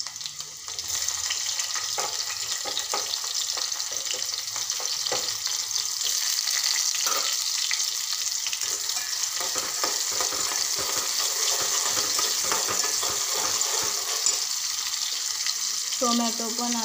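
Chopped tomato frying with onion and green chillies in a pan for a simple okra sabji, a steady loud sizzle running throughout with occasional stirring scrapes, close up and without talk.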